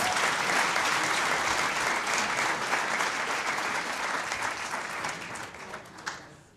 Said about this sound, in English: Can we just give our president a round of applause, please?